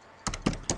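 Several quick keystrokes on a computer keyboard while entering a label in statistics software, close and fairly quiet, in a short irregular burst with no talking.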